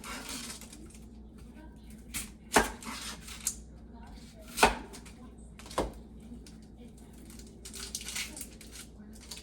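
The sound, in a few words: knife julienning a Spanish onion on cutting board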